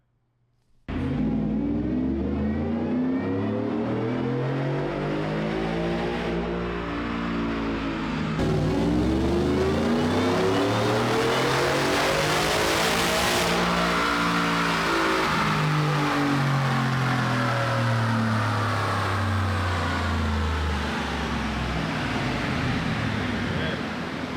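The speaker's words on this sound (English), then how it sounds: "we decided we're gonna make a pull in 5th gear so that we can get a full pull for all the RPM" Whipple Gen5 supercharged car making a full-throttle pull in fifth gear, engine note rising steadily through the RPM range with supercharger whine, loud and close for over twenty seconds.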